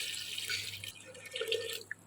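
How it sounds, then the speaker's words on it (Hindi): Water pours into a cooking pot holding mutton paya with garlic and ginger paste, a soft, close, trickling stream with small splashes and drips toward the end. "और अब जो है मैं इसके अंदर पानी डालने लगी हूँ।"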